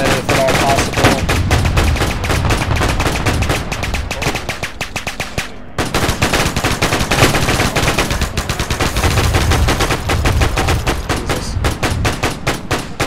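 Rapid bursts of gunfire and machine-gun fire aimed at a Japanese Zero fighter plane in a Wake Island battle video game, loud and dense throughout with a brief gap midway, and a voice exclaiming once.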